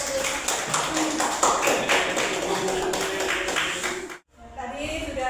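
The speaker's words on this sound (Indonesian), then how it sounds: "Berikan tepuk tangan untuk kelompok" An audience claps for a group that has just presented, with rhythmic, close claps and a tonal hum underneath, cutting out abruptly near the end before voices resume.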